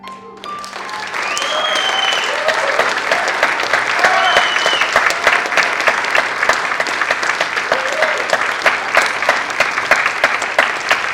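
After a youth poetry performance, an audience breaks into sustained applause, loud and dense, with scattered whoops and shouts rising over the clapping for several seconds.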